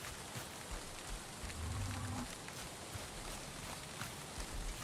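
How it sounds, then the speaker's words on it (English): Steady rain falling in the Black Forest of the video game Valheim, played with a creature mod, a dense even hiss of drops with faint low rumbles. "I was just noticing the sound of rain in the Black Forest"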